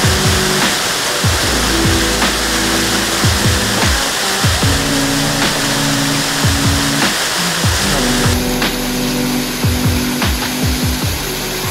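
A waterfall in Chapada pours into a deep pool, a loud continuous roar of rushing water that holds steady throughout, with no one talking.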